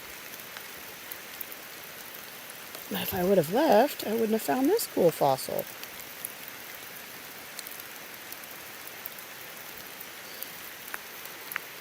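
Steady rain falls outdoors across a gravelly creek area where Missouri agates are hunted, a constant close hiss of drops, with someone talking briefly over it.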